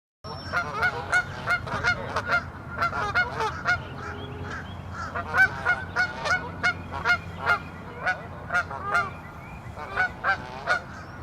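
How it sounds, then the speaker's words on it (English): A flock of geese on a waterway honks repeatedly nearby, loud overlapping calls in an irregular, busy chorus that never lets up. "Those geese really make a lot of noise when they're there"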